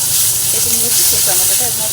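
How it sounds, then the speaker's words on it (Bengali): A chopped tomato hits a hot pan of frying whole spices and sets off a loud, steady hiss of steam and sizzle up close. A voice talks briefly over it. "একটা টমেটো কেটে নিয়েছি সেই টমেটোটা এর মধ্যে দিয়ে দিলাম"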